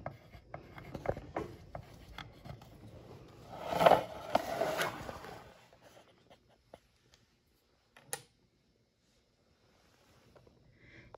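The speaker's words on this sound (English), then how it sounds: "you're going to write down the time 40 minutes from the start time" A pen scratches out a time on paper, with soft scraping strokes up front and a brief louder burst, then near-silence broken by one sharp tap.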